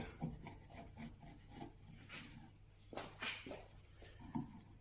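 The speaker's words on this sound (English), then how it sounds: "Grain direction when you're removing glue with a chisel." A chisel scrapes dried glue off a wooden IKEA GJÖRA bed post, giving repeated soft rasping strokes close up, in short irregular bursts with a faint hum underneath.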